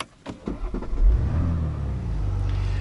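A 2018 BMW X5 M50d diesel engine starting up: a brief cranking clatter, then a firm rev that settles into a steady, low idle rumble, close and moderately loud, with no talking.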